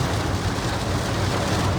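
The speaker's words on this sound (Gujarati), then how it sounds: "આવો વરસાદ જોવો નથી મારે" Heavy monsoon rain pours down steadily in Surat, a dense continuous hiss of downpour on surfaces with a low rumble underneath, loud and unbroken throughout with no voices.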